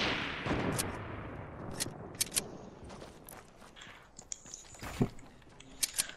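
Sharp gunshots crack out in a video game firefight, several isolated reports spaced irregularly over a background of rustling and movement, with a cluster of louder shots near the end.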